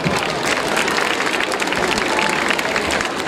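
Loud, dense applause from an outdoor concert crowd at a children's White Night event in Stornarella, many hands clapping continuously and steadily without pause.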